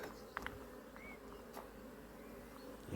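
Honey bees fly around their hives on a warm day in Ireland, a faint continuous buzzing drone with individual bees zipping close by in brief louder passes.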